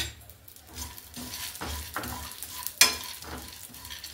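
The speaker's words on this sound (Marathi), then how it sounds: "ते 1 टेबलस्पून तूप घालून घ्यायचंय आणि या सर्व बिया आपल्याला छान अशा खरपूस भाजून घ्यायचे" Mixed seeds, pumpkin, melon, sunflower and flaxseed, roasting in a tablespoon of ghee in a pan, giving a soft steady sizzle with scraping stirs at intervals and one sharp clink near the end.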